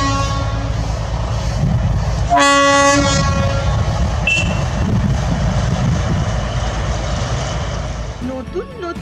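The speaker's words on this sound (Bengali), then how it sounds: "আর সেই মেঘের বুক চিরে বেরিয়ে এলো একটা টয় ট্রেন।" Darjeeling Himalayan toy train at Batasia Loop rumbling past at close range, with a bright horn blast partway through over the steady rolling rumble and clatter, and faint voices in the background.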